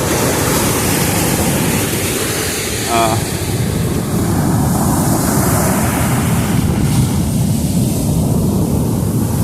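Ocean surf on a Chennai beach, a constant loud roar of breaking waves that fills the whole stretch. A faint tonal call cuts through briefly near the middle.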